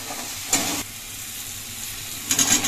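A spice masala with turmeric and salt sizzles steadily in a hot pan, two sharper bursts of frying flaring up at the start and end over a continuous hiss.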